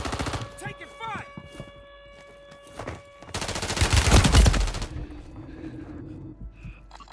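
Call of Duty: Warzone gunfire on Rebirth Island, a dense burst of rapid automatic shots lasting about a second and a half, coming after a stretch of game voice lines and electronic tones and then fading into quieter game ambience.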